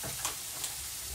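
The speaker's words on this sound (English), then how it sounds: "We definitely want to get those mushrooms cooked." Mushrooms frying in butter in a pan for smothered steak and gravy, giving a quiet, steady sizzle with faint crackles throughout.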